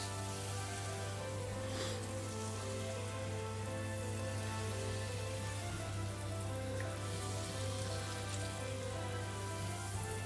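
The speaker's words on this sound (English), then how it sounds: "They sizzle on contact." Steady, continuous sizzling and crackling of batter frying in hot fat, close and even throughout with a low hum underneath, no talking.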